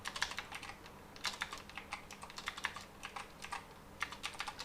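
Quick, light clicks of typing on a computer keyboard run in an uneven, steady patter, close and quiet, with no talking.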